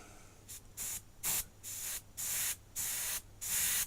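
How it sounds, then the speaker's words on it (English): An airbrush set to somewhat high pressure sprays in seven short, close bursts of hiss that grow longer and louder, with no talking. "maybe my pressure on the airbrush is just a little bit high"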